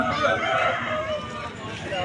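Rooster crowing amid the bustle of a rainy Vijayawada poultry market, a drawn-out call carried over steady crowd noise with people talking nearby.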